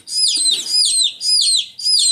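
A dozen young chickens being raised as future egg layers on a farm chirp in four quick, high, repeated bursts, close by and clear, with no talking.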